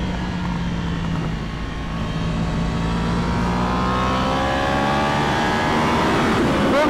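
A Yamaha R1 motorcycle on a race track rising in pitch as it shifts up through the gears, a loud, close, continuous engine howl building steadily with no talk.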